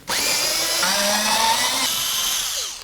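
Power tool with an 8mm socket spinning out a bolt on a 2009-2016 Mercedes-Benz E350 during fog light replacement, a close, loud motor whine that shifts pitch partway, then winds down after about three seconds.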